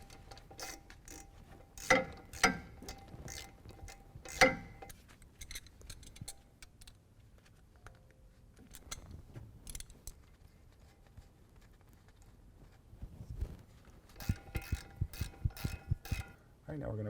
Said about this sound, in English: Use an 11mm to go ahead and snug those guys up.